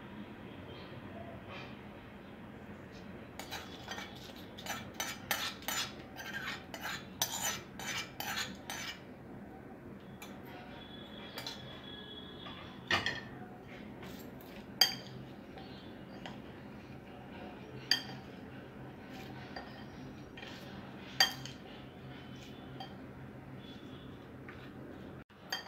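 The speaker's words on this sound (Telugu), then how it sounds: "ఇలా ఆయిల్ మొత్తం కలిసేలా బాగా కలుపుకోవాలి." A spoon stirs cauliflower pickle with oil in a vessel, making quiet scraping and clinking against the metal, with bursts of faster stirring and a few sharp isolated taps, mostly without talk.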